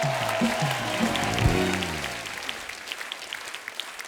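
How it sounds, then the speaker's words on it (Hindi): Studio audience applause on a television comedy talk show as a female film actress is welcomed, a dense wash of clapping under low musical and vocal tones early on, thinning into scattered claps toward the end. "जोरदार तालियां हो जाए"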